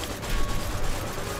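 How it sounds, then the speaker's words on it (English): Rapid SMG fire in Borderlands 2, a dense, loud, continuous burst of rattling shots with mechanical clatter, heard alone and close. "Put the SMG on."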